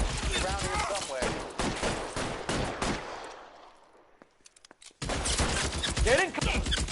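Gunfire in the detective game L.A. Noire, loud rapid shots and echoing cracks dense over voices and score, cutting out into near silence for a moment before the shooting and talk return at full strength.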